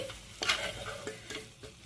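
Tamarind leaves and peanuts are stir-fried in a pan, with a soft sizzle under scraping spatula strokes that come in a few uneven sweeps, close but fairly quiet, with no talking.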